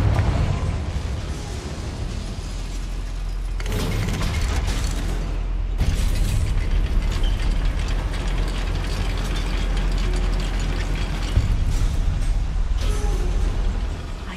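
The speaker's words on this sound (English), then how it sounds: "Look at this lift. Impressive workmanship for so simple a device." A lift mechanism in a video game grinds and ratchets continuously, a loud mechanical clatter of gears with rumbling low end and brief shifts in intensity, with no voices.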